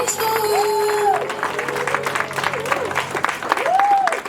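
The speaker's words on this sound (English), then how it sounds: "please, give a round of applause" Audience applause and cheering at a Black History Month special presentation after a song, with clapping under a sustained singing voice and chatter.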